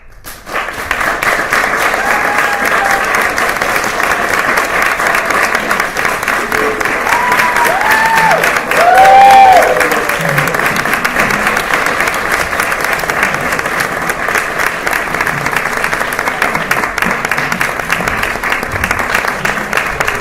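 Sustained applause from a theatre audience after a performance of the play God of Carnage, steady and dense for about twenty seconds, with a few faint voices and a brief whoop rising above the clapping.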